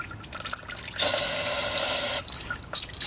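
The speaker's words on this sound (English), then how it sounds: "I'm gonna try and get much of this water out as possible." Water gushes out of the clutch case of a KX85 two-stroke dirt bike with a frozen clutch, a steady splashing pour lasting about a second, loud and close, set between quieter stretches of background noise.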